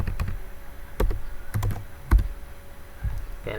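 Typing on a computer keyboard during a Cisco SD-WAN vManage setup, with a few separate, spaced clicks of keys, then a short burst near the end, quiet and close with no talk.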